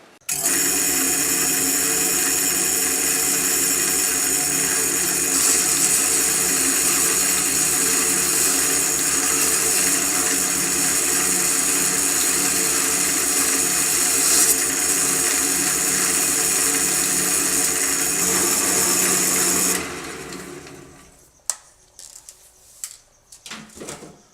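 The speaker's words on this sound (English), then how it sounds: "So now what I'm going to do is just sand off these ends and round it off." Steady, loud whirring drone of a lathe spinning a wooden French rolling pin while its ends are sanded and rounded, holding evenly for about twenty seconds before cutting off into quieter scattered knocks.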